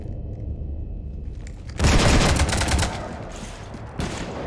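Gunfire raking a ship in Mass Effect 3, a sudden loud burst of rapid shots after a quieter hum, easing off, then another sharp burst near the end.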